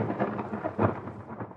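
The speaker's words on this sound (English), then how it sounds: "he just hears this massive thunderstrike" A massive thunderstrike rolls out in a thick, rumbling burst with a swelling peak midway, heard close and loud amid falling rain, with no voices.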